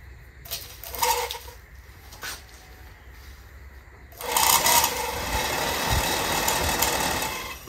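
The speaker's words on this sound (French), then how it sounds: "Allez, on va tester le moteur." A restored wreck's car engine is tested: a few short cranking bursts come first, then it catches at about four seconds and settles into a steady, rattly idle close by.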